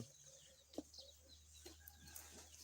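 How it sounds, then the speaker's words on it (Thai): Village chickens cluck faintly and sparsely in a quiet rural yard, with a few brief distant calls over low background hum. "ไก่เขามาแล้ว"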